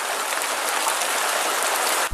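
Heavy rain pours steadily in a cartoon storm scene, a dense, loud, unbroken hiss of falling water that cuts off abruptly at the end.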